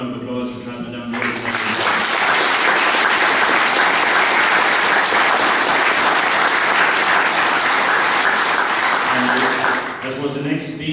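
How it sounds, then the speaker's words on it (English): Sustained, loud audience applause at an election nomination meeting, rising after a brief moment of talk and holding steady for about nine seconds before tapering off, with a voice resuming at the end. "I'd like that he get a round of applause for travelling down the road."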